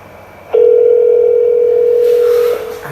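An iPhone places a call on speakerphone, giving a single steady electronic tone that holds for about two seconds, loud and close, with no talking over it.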